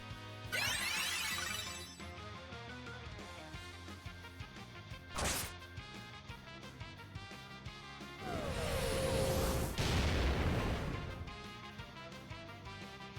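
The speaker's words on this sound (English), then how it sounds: "This is an explosion!" An explosion effect from the video game Final Fantasy V, with sharp crashing hits and a long, loud burst of noise near the end over layered game music, and no talk.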